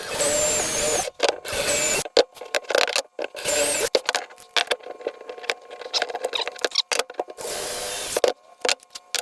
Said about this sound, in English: Now I'm drilling for my screws using the pre-drilled holes on the plate.